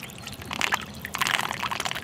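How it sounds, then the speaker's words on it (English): Liquid fertilizer poured into a feed tube set in a planter, a short gurgling, trickling stream that builds and splashes, close up with no talking. "fertilizer and pour it right down."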